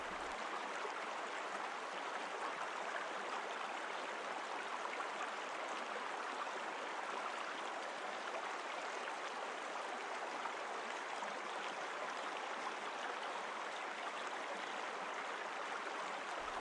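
A river flows in a steady, unbroken rush along its bank, its broadband wash holding an even level throughout with no voices.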